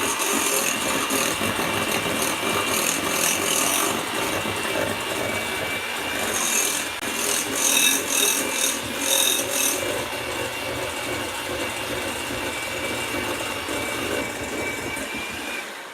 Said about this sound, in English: So let me mix this all together and then we'll test it out.